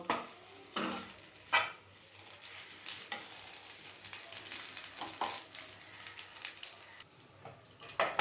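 A spoon stirs pasta in a pan with sugar added, sizzling softly underneath, with sharp scraping clinks and taps against the pan at irregular intervals, close and fairly quiet.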